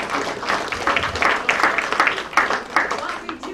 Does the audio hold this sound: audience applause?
yes